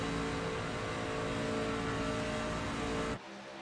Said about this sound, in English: Does not sound like he's letting off at all. So they're both full throttle out here